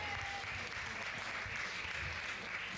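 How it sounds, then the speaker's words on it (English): Steady round of applause from a live audience at an EP launch concert, continuous and even clapping throughout, with a faint tone briefly at the start. "Now, round of applause,"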